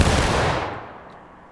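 A massed musket volley fired on command in the War of Rights Civil War game: one loud, crashing blast right at the start, trailing off into a long rolling echo that fades over about a second.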